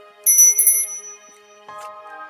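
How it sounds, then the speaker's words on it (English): A small bell rings twice with a bright metallic ding, the first strike louder, then a softer second ring that fades, in an otherwise quiet indoor setting. "You might ring the bell."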